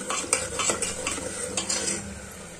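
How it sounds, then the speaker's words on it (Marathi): Oil tempering for chicken rassa sizzles in a pan as kasuri methi goes in, a steady close hiss broken by a few quick clinks and scrapes of a stirring spoon, with no talking. "तर आपण आता ही फोडणी तयार होत आहे. त्यामध्ये थोडीशी कस्तुरी मेथी घालून घेतली"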